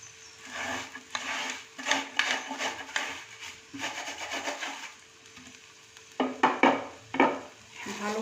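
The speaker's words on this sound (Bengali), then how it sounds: "ভালো করে এবার নেড়ে দেবো সবজির সাথে।" Fried semolina being stirred into vegetables in a pan, with repeated rubbing, scraping spatula strokes in uneven bursts, close and moderately loud, no talk.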